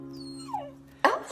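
A dog whimpers in a French Christmas TV movie, giving a thin, high whine that slides downward, followed by a sudden louder, noisy burst near the end.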